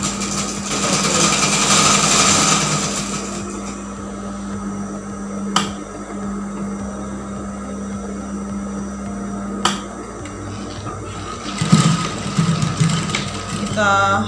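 Sewing machine stitching a cloth 3D face mask, running in a steady hum with a few sharp ticks and clacks from handling the fabric and machine.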